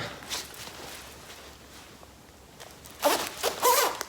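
A jacket zipper is pulled up in two quick, close rasps near the end, after a few seconds of faint fabric rustling.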